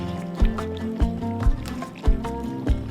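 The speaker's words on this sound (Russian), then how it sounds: "кипит довольно бурно и пусть мясо разваривается" Meat boils vigorously in a pot of Uzbek mashkichiri, heavy bubbles bursting in a rough rhythm of deep, close thumps and gurgles about every half second, with no talk.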